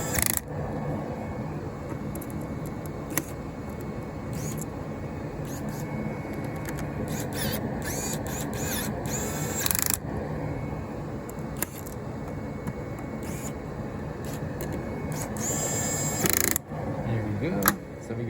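Small cap screws driven in by hand while a ZOIA Euroburo is assembled, giving faint intermittent ratcheting and tool clicks against steady low room noise, with a few sharper taps near the end.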